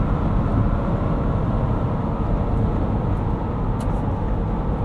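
Tire roar from 35-inch tires on a Ford Ranger Raptor cruising on highway pavement: a constant, loud broadband rumble and hiss inside the cab, unbroken by talk.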